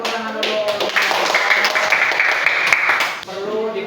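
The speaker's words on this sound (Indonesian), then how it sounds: "kasih tepuk tangan dulu" A classroom of students claps together for a few seconds, a loud burst of rapid hand claps that rises, holds and then stops abruptly, with a voice briefly heard before and after.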